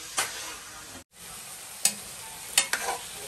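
A hotdog frying in a pan gives a soft, even sizzle, cut by a brief moment of silence and punctuated by four sharp clanks of a utensil against the pan; no one speaks.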